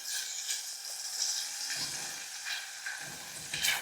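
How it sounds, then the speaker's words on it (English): Blueberry preserves being stirred into a hot pan after searing duck breast, giving a steady close sizzle with soft scraping strokes throughout and brief louder flare-ups near the end. "stir that until it's kind of dissolved in there"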